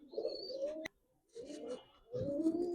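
Giribaz pigeons on a pigeon farm give soft, close, repeated throaty coos in three short bursts with brief pauses between.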